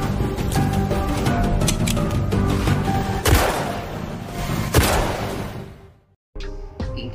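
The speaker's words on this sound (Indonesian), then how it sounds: "Inkyu terkejut nih mendengar suara tembakan itu" Sharp gunshots in the film Remember crack out among loud rumbling and scraping, a few bursts close together, then the noise cuts to near silence.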